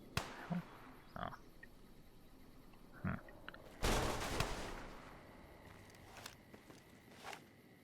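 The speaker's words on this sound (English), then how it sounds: "Should we be concerned about the you know, the gunfire that's going on?" Video game gunfire in Fallout: New Vegas: scattered distant shots crack out irregularly, including a louder burst with a decaying tail, over a quiet background of faint footsteps and movement.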